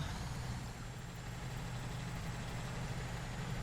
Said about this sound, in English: If I could just start the engine up.